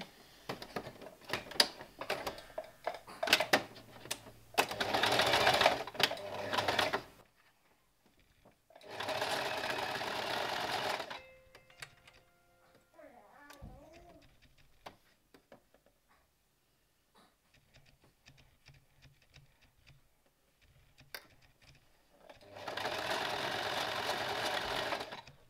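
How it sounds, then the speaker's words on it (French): Sewing machine stitching fabric for a dress, three loud stretches of rapid mechanical stitching separated by pauses with quiet handling sounds. "il faut prendre du temps quand on est à la machine pour bien positionner les tissus"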